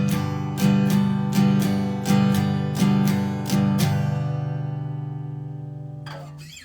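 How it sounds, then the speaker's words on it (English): Swing-feel strumming on a guitar: about seven bright chord strums in a lilting long-short rhythm, each ringing out, then a final strum left to decay, close and clear with no talking. "And a swing strum sounds like this."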